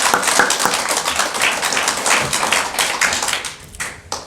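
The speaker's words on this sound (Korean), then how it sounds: "우리 다나 선생님 힘내라고 박수 한번 합시다" A church congregation clapping for a teacher, a loud, fast, even burst of many hands close by that tapers off near the end.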